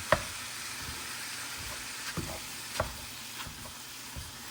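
A handheld meat chopper with a large handle breaks up ground meat sizzling in a pan, giving a soft steady sizzle with a few sharp scraping clicks and taps scattered through, close and fairly quiet.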